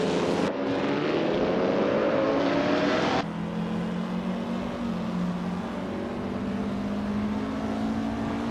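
A 1950 Ferrari 375 F1 race car engine in a racing video game drones loudly and steadily at high revs, its pitch rising slightly before a sudden shift to a lower, sustained tone.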